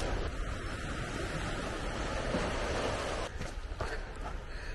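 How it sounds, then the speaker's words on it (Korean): Steady, loud roar of incoming ocean surf washing over rocks on Jangbongdo island, a continuous rushing wash with wind, no voices. "물이 들어오니까 파도 소리가 엄청 크게 나요."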